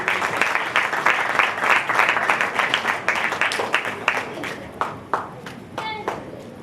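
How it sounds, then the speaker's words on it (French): An audience at a summer camp closing ceremony claps loudly in a dense burst of applause that thins into scattered, fading claps, with faint voices underneath. "Veuillez applaudir Gorgui Wagan Faye."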